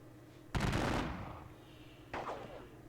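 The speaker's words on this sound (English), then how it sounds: "we are going to exchange fire." Gunfire exchange in a Battle of Bautzen wargame: a loud burst of massed shots rolls out and decays over a second, then a second, weaker volley follows near the end, with no talk.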